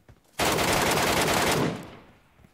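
Automatic gunfire in the mobile battle royale game PUBG Mobile: one long, loud, rapid burst of shots lasting over a second, ending in a fading echoing tail.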